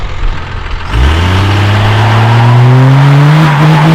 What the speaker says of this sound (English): This thing does burnouts so easy now.